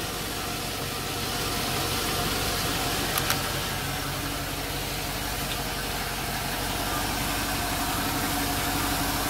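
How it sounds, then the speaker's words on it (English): An old truck engine idles steadily nearby, a continuous rumbling hum with a faint rattle and no change in pace. "Not bad running for an old truck."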